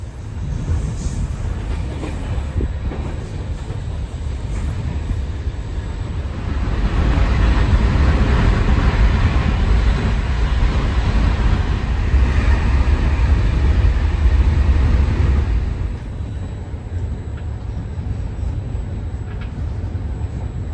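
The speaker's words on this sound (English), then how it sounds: "here is the train, and regional train going to Roma Termini" Regional train heading to Roma Termini on a hot day with an open window, a loud continuous rumble of wheels and wind that swells louder mid-ride, then eases back, with no voices.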